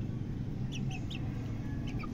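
A fighting rooster and hen cluck in short, faint bursts, a few quick calls over a steady low background hum, with no talk.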